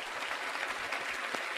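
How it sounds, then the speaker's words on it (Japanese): A seminar audience at a Robert Kiyosaki event in Japan gives a big round of applause. The dense, continuous clapping fills the whole short moment at a steady level, with no voices over it. "本当にもう一度大きな拍手をしてください"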